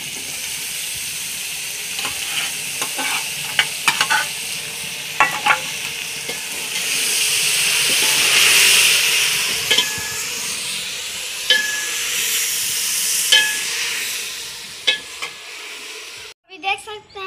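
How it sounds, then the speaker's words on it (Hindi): Okra sizzles steadily in hot tempering oil with tomatoes and chilies, a bright crackling hiss with occasional stirring clatter and sharp pops, close and fairly loud throughout. "और हमारी भिंडियों को तड़का लग गया है"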